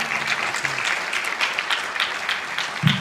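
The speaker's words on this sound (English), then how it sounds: "Give them a round of applause one more time, guys" An audience at a film Q&A event claps continuously, with a dense, moderately loud patter of hands and a brief low voice or murmur near the end.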